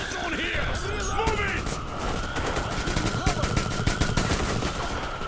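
Rapid gunfire bursts in the post-apocalyptic shooter Metro Exodus, with repeated loud shots and crashes spread through the whole stretch, under a person talking.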